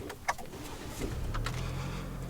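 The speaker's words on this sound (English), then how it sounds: "Let's go ahead and start it up." A 2023 GMC Canyon AT4 starts up, a faint click followed by the engine catching into a low, steady idle hum heard from inside the cab.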